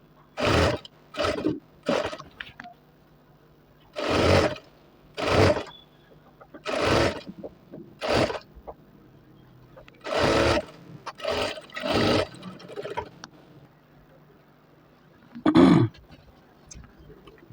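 A sewing machine stitches a shirt sleeve in bursts of loud whirring that start and stop every second or two, with quiet pauses between runs.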